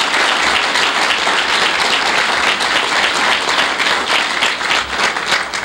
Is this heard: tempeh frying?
no